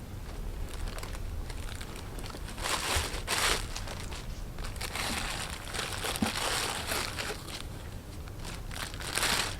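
A high heel shoe is pulled from crinkly packaging, giving close, irregular crackling and rustling bursts that rise and fall throughout.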